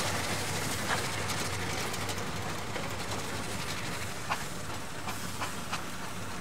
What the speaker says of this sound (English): the black engine just gone by the beer pen there is the road locomotive example as well